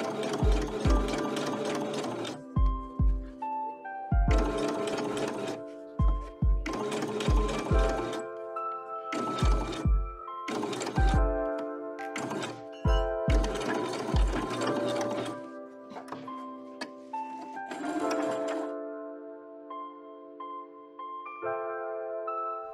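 A Singer sewing machine stitches a skirt waistband in a series of rapid whirring bursts separated by short pauses, loud and close with no talking.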